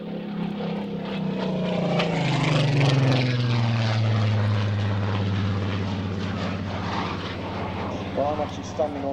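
Avro Vulcan XH558 and a second aircraft fly past during the 2008 Waddington airshow, a loud sustained engine roar with a falling Doppler pitch as they cross close in front, then fading, with a person talking over it.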